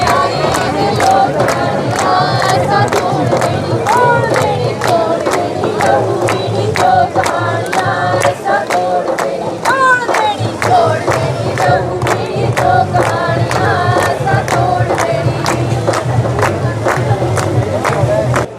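A crowd of protesting students chants in unison in a continuous rhythmic call, loud and close throughout, with shouted voices leading the chant.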